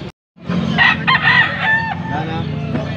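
A young Boston hatch gamefowl rooster, about eight months old, crows once in a long, close, loud cock-a-doodle-doo in Angeles, Pampanga, with faint farmyard background noise around it.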